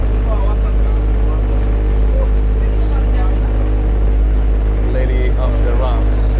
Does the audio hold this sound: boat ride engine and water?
yes